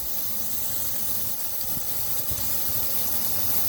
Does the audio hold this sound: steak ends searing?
yes